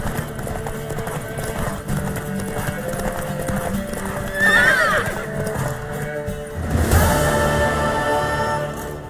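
In the video game The Witcher 3: Wild Hunt, rhythmic hoofbeats clop steadily as a horse gallops and whinnies loudly twice, with faint voices in the background.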